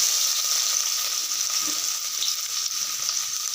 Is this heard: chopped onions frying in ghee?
yes